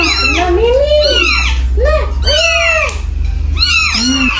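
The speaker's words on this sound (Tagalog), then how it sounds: "Nakita sila ng maraming pusa" Several cats meowing repeatedly, overlapping high-pitched cries close by, some rising and falling, with little pause between them.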